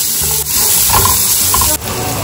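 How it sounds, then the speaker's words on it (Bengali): Nuts and onion frying in ghee give a loud, continuous sizzle close up, with occasional stirring clatter and a couple of brief dips; no talking. "একটুখানি ঘি দিয়ে দেবো বাদামগুলো, একটু নাড়িয়ে চাড়িয়ে দিয়ে দেবো পেঁয়াজ,"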